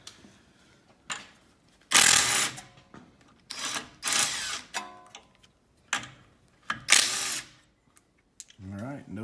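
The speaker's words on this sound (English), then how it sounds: "we're going to go ahead and take off these 18mm bolts and get this off" A power tool whirs in several short bursts, loosening 18mm bolts from the dual steering stabilizer on a brand-new Jeep. The bursts are separated by quiet gaps with clicks and light mechanical clatter in between, and a person speaks nearby.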